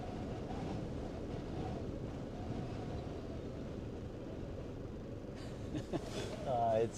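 Strong wind blasting across the Sundhnúksgígar eruption area in Iceland, a loud, dense low roar buffeting the microphone steadily throughout, with brief rustling gusts near the end.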